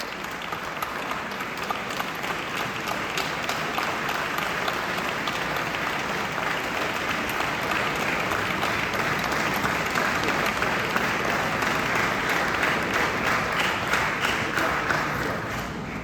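An audience at a naval academy Christmas celebration applauds a young orchestra of military and civilian staff children, with dense, sustained clapping that holds steady for the whole stretch.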